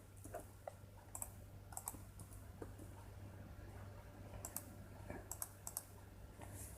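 Keys clack in short bursts on a computer keyboard while someone types a word into a Tamil font converter, quiet irregular taps over a steady low hum, with no talking.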